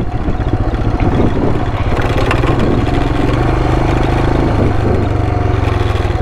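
A Royal Enfield Himalayan motorcycle engine runs loud and steady while riding an offroad trail, a continuous low throbbing drone with slight rises in revs throughout and no talking.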